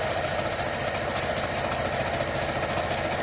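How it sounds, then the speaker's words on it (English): A sewing machine runs steadily as it stitches a pillowcase seam, a continuous close mechanical whir and rapid needle chatter holding even loudness for the whole stretch with no talk. "sew this all the way down from one end to another"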